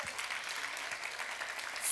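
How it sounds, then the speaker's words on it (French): Audience applause at a French talk show taping, a steady wash of clapping from a studio crowd that carries on evenly for the whole stretch. "On peut l'applaudir, ben oui, comment?"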